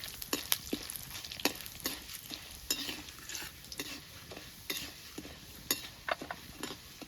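Urad dal hits hot oil with chana dal while lemon rice is being made, and it sizzles softly under repeated stirring and sharp scrapes of a spoon against the pan. The sound is fairly close and quiet, and nobody talks.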